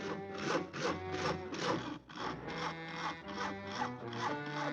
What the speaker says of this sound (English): Isn't that your house Harry is sawing on?